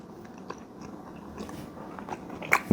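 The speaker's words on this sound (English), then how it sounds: "gonna see if I can eat this without chewing" Someone bites into a piece of very fatty, expensive beef, with soft wet mouth sounds and a few crunchy bites that grow louder toward the end, no talking.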